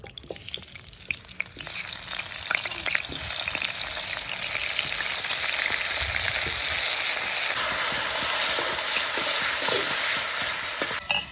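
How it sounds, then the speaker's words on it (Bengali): Cauliflower and potato pieces coated in salt and turmeric frying in hot oil, a steady close sizzle with occasional stirring scrapes and crackles, no talking. "ফুলকপি আর আলুতে আমি লবণ হলুদ মাখিয়ে নিয়েছি, এবার ভেজে নেব ওগুলো।"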